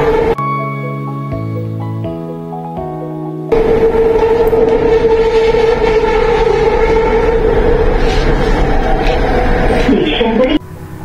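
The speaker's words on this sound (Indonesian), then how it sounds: "Sekarang kami sudah berada di atas monorail." A monorail train in Kuala Lumpur runs along, a steady rolling rumble with a sustained motor whine after a few stepped electronic tones at the start, heard loudly from inside the car.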